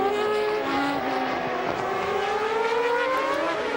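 Formula One race cars at the 1991 French Grand Prix, including a Williams and a Ferrari, scream past with high-revving engine whines that rise and fall in pitch as they pass, loud and continuous with no break.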